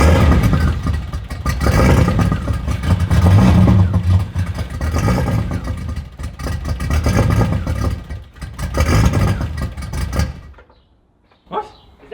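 Ford Fairlane drag car engine revving hard with the wastegate open, a loud, sustained roaring drone with surging pulses for about ten seconds before cutting off abruptly, followed by a brief faint blip.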